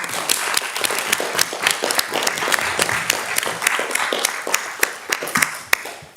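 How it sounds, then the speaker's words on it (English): Council members in a Sunderland council chamber applaud, a dense and fairly close run of clapping with some sharp individual claps standing out, continuing for several seconds before fading. "I would like us to applaud them all."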